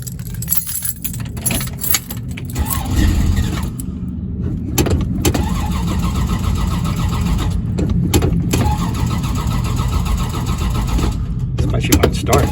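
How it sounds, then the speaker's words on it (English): Mopar mini starter cranking the engine of a 1966 Dodge Dart GT barn find, a steady continuous whirring grind close up, with a jangle of keys at the start and the engine not yet catching. "one of my favorite sounds is the Mopar starter"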